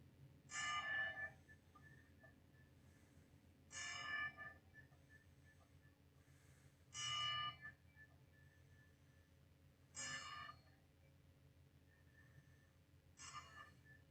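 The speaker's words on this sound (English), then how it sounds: "Whitey Ford, legendary pitcher of the New York Yankees, with a 10-bell salute." A ten-bell salute rings out at a New York Yankees honor ceremony for pitcher Whitey Ford, the bell strikes coming as evenly spaced, fairly quiet single rings roughly three seconds apart over a low hum.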